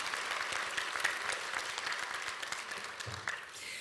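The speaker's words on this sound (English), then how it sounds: "we'll give her a round of applause" Audience applause at a graduation ceremony, a steady patter of many hands clapping together for nearly four seconds, fairly distant and even with no voices over it.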